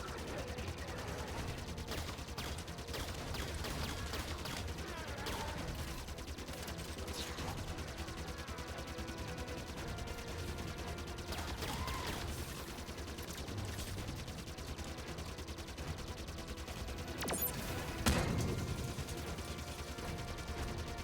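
Carbine and Fury Rod cannon fire during a battle in the shooter Halo 5: Guardians, a constant mix of shots, bursts and mechanical clatter at moderate distance, with a sharp louder blast near the end.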